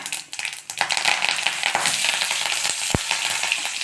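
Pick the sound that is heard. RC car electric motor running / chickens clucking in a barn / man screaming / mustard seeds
mustard seeds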